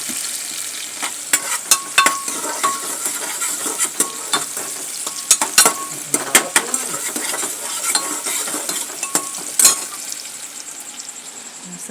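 Onions and potatoes fry in a pan with a steady sizzle, while a utensil scrapes and clinks against the metal in irregular strokes close by.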